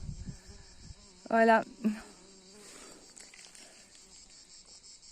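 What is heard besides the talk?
bees buzzing in pennyroyal field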